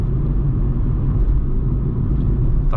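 A 2020 VW Voyage 1.6 with a manual gearbox drives at night, its cabin filled with a steady, loud low rumble of engine and road noise, with no talk.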